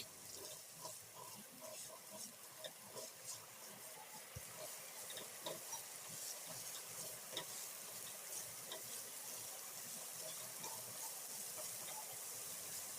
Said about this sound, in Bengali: এবার এগুলোকেও খুব ভালো করে নেড়ে চেড়ে ভাজা ভাজা করে নিতে হবে